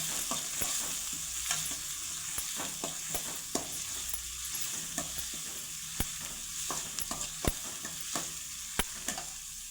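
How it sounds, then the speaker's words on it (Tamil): Onions fry in oil with popping mustard seeds and turmeric for a carrot-beans paruppu usili, a constant close sizzle broken by sharp spattering pops and occasional stirring scrapes, with no voices. "வெங்காயத்தை போட்டுக்கலாம் வாங்க வெங்காயம் நல்லா பொன் நேரமாக ஆகட்டும்"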